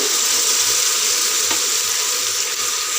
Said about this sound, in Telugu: మంచిగా కలిపి మరి కాసేపు ఫ్రై అవ్వనివ్వాలండి